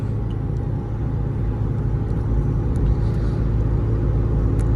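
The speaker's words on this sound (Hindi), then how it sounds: "अब मैंने क्रूज कंट्रोल पे सेट तो कर दिया है, छठा मैंने गियर लगा दिया है, 90 से थोड़ी सी ये अपना 88 की स्पीड होगी।" A Mahindra XUV500 cruises at about 90 km/h in sixth gear on cruise control, heard from inside as a steady, even road and engine rumble with a constant low hum and no voices.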